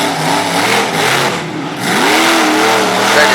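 A race car powers through a dusty dirt-track corner, its engine revving loud and close, pitch sweeping upward as it accelerates out of the turn.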